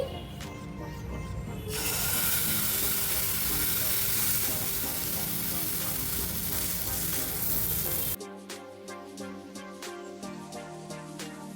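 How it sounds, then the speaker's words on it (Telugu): Sweet potato pancakes fry in a pan with a loud, dense, steady sizzle that cuts out abruptly, leaving softer crackling and faint clatter afterward. "రెండు వైపులా చక్కగా ఫ్రై చేసుకున్నాక ఇప్పుడు ప్లేట్లోకి వేసుకుందాం"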